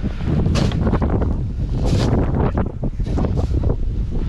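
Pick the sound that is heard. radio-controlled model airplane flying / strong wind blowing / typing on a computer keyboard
strong wind blowing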